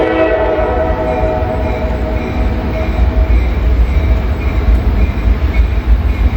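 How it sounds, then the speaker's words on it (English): A loud freight train rumbles past close by, steady heavy rolling noise with a sustained horn tone drifting over it. "Look at this train."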